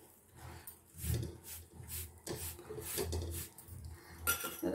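Flour for puranpoli being roasted and stirred in a pan, a spoon scraping and clinking against the metal in irregular strokes, close and moderately loud with no voices.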